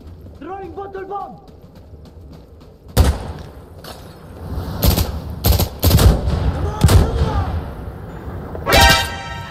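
Gunfire from the video game Insurgency: Sandstorm, a few loud sharp shots and short bursts cracking out in the second half, with a player talking over much of it.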